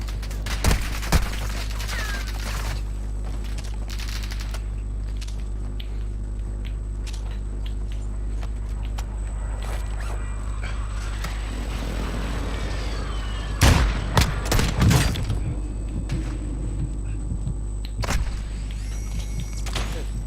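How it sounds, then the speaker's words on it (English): Video-game combat with an airstrike in the area: sharp bursts of explosions and gunfire clustered near the end, loud and close, over a steady low drone and scattered clicks. "Friendly airstrike in the AO."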